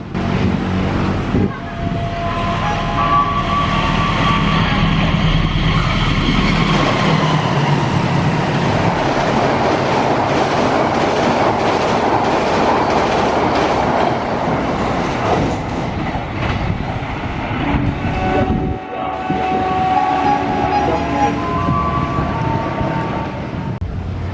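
Fajar Utama YK 109, a passenger train running late, roars loudly through Klari station in Indonesia, with a continuous rumble and rhythmic wheel clatter sustained close by throughout.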